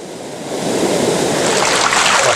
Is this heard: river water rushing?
yes